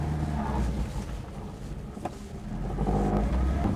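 A Viva car with an 1100 engine accelerating through the gears, heard from inside: a steady, low engine drone that holds fairly constant, then swells slightly louder toward the end.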